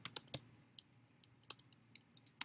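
Quick, irregular keystrokes tapped on a computer keyboard, close and crisp, with short pauses between bursts against a quiet background.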